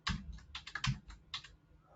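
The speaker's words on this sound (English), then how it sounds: "This is going to be painful on the Japanese keyboard." Fingers type on a Japanese computer keyboard in quick, uneven bursts of close key clicks, with short pauses between clusters.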